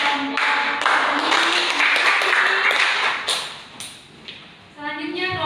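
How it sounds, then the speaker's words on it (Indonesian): Classroom applause for a presenting group of elementary school students, a burst of clapping from many hands that runs for several seconds, fades, then returns briefly, with voices underneath. "beri tepuk tangan untuk kelompok ini"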